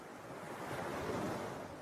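Ocean waves wash steadily against a calm sea, a continuous soft surf hiss with gentle swells and a touch of wind, with no voices present.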